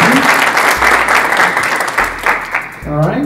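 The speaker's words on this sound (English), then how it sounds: "Can I get a big round of applause for expert panelists?" Loud, dense audience applause for expert panelists at a wealth coaching event, steady clapping throughout with some cheering and voices mixed in.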